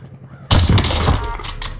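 Sudden loud blast of gunfire bursts from a shooter video game after a quiet moment, followed by a sustained, crackling roar of shots and impacts that stays dense to the end.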